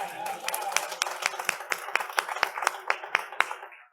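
Audience applause at a Microsoft diversity keynote, a moderate spread of clapping with distinct sharp claps standing out, steady for a few seconds and then fading away.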